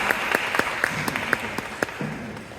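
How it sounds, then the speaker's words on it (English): Audience applause at a professional panel conference in Boston, following a speaker's introduction: scattered, moderately distant clapping with sharp individual claps standing out, fading gradually. "Please give her a round of applause."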